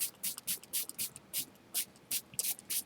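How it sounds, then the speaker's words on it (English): Gold mist ink is sprayed from a distance onto burlap in about a dozen short, quick hissing bursts with brief pauses between them, close and fairly quiet, with no talking. "So I'm just going to go ahead and spray it with some gold mist."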